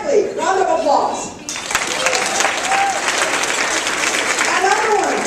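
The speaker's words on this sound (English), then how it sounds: "Round of applause." Audience applause fills a keynote luncheon hall, a dense steady clatter of many hands clapping for several seconds, with brief spoken voices at the start and end.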